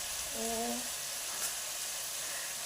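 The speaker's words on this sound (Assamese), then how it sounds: "বিলাহীখিনি প্ৰথমতে অকণমান গলাই লৈছোঁ, মানে অকণমান গলি যোৱালৈকে বিলাহীখিনি ভাজি লওঁ।" Tomatoes fry in a pan until softened for a tomato fish curry, giving a soft, steady sizzle throughout, with a brief tonal sound near the start.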